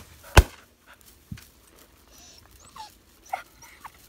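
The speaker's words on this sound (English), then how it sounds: "An excited dog." A dog gives a few sharp, sporadic yips and whines against a quiet outdoor background at a partridge shoot, with short gaps between the sounds.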